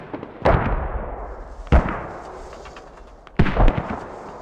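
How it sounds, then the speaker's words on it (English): Rockets fired in a competitive squad match of a war video game on the Chora map: three sharp, loud blasts spaced over a few seconds, each trailing off in a rumbling tail, with no talk. "Yodav is gonna send some rockets."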